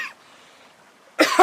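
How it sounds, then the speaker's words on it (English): A person coughing in a live talk, one brief cough at the start, a short silence, then a harsher, louder burst of coughing at the end. "I was coughing so much I couldn't even say excuse me properly"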